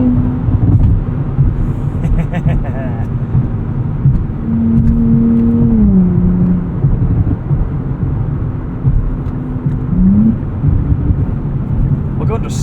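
A 2024 Nissan Z Nismo accelerates hard out of a corner on Dunlop tires, its engine a loud, close, deep drone that rises in pitch through the revs, with a voice talking over it partway through.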